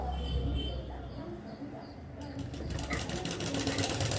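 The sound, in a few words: sewing machine stitching a half-inch double-folded sleeve edge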